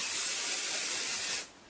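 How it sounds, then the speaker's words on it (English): A can of 505 temporary spray glue hisses onto the back of fabric in one steady, close burst that cuts off abruptly near the end. "And then I'm going to use some 505 spray. This is a temporary spray glue."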